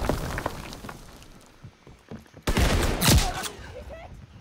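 Shotgun fire in the World War II shooter Call of Duty WWII, a couple of sharp close blasts and a burst of battle noise amid game effects, with talk over it.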